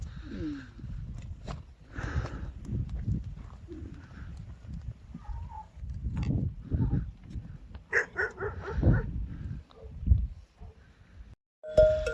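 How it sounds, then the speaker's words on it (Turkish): Sheepdogs bark in short, scattered bursts around a herd of sheep on a highland pasture, mixed with shuffling hooves and rustling at moderate distance, with intermittent quieter moments. "Köpekler de sürünün etrafında toplanmış ya."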